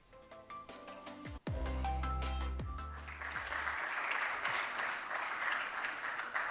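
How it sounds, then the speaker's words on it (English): An audience at a tech conference fireside chat claps as speakers walk on stage. The applause swells in after a loud musical sting and carries on steadily as a dense crowd wash. "We might need to keep clapping."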